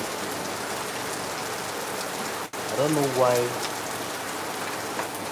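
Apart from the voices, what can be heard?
heavy rain in Lagos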